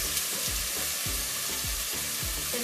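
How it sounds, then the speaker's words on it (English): Potatoes and onions sauté in a hot pan with a steady, close sizzle and rhythmic scraping strokes from stirring, with no talk. "Now we're gonna saute it for a little while"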